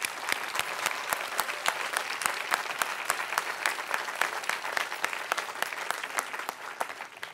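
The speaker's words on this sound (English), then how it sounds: "let's give all our scholarship winners a big round of applause" Crowd at a college commencement applauds scholarship winners, a continuous, lively burst of many hands clapping with sharp individual claps standing out, steady and close throughout.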